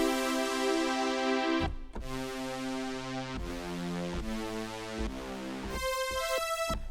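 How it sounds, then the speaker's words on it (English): A super saw synth pad from a tweaked Future House preset plays sustained, bright chords with dense stacked harmonics, changing chord roughly every second and a half, loud and alone with no talking. "Just a regular super saw pad, nothing crazy."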